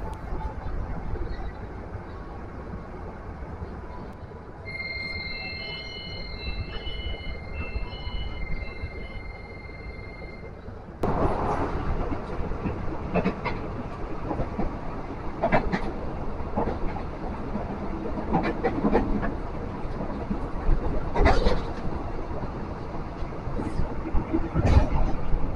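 KRL commuter train pulling out of Solo Jabres station toward Palur on the Yogyakarta–Palur line, a steady rumbling that swells noticeably louder partway through, with rail clatter and scattered sharp knocks.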